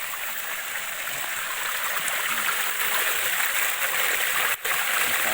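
Steady rushing flow of a clear mountain stream at Nang Rin Waterfall in the Phu Phan range, Thailand, broad and continuous, close by with no voices.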